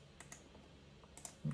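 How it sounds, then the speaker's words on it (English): A computer mouse gives a few soft, faint clicks during work in Primavera P6 scheduling software. Quiet, isolated taps sound close to the microphone, with no talk. "I'm going to right click"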